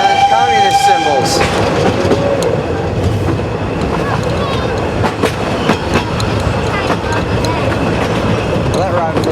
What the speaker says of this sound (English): So that's the full narrow gauge train ride.